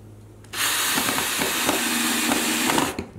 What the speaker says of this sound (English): you take your drill